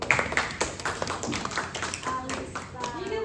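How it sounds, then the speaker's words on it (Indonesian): Students in a classroom give a short burst of applause, scattered irregular claps near and moderately loud, mixed with chatter and talking voices. "Oke, tepuk tangan."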